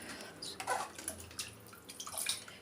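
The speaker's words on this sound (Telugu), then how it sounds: "ఇంకొక కొద్దిగా 2 బౌల్స్ వాటర్ వేసాను" Water is poured into a pot for chicken biryani, a short close splash and trickle with a few drips, fairly faint and with no talking.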